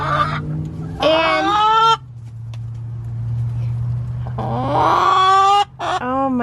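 Several backyard chickens, among them a broody salmon Faverolles hen, give loud harmonic squawks and calls in two bursts, with a low steady hum underneath.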